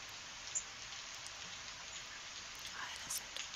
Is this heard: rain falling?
yes